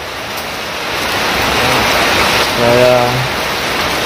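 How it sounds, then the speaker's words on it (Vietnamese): Heavy rain pours down at night in the countryside of the Mekong Delta, a loud, dense, steady hiss throughout, while someone briefly speaks over it. "Trời cũng là mưa quá trời luôn cả nhà, mưa nổi nước luôn rồi."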